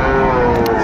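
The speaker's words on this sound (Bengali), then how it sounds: "সবগুলাই ষাঁড় বাচ্চা" A young bull calf at a cattle market lets out a single close, loud, sustained low moo that fills the whole short moment with almost no other sound.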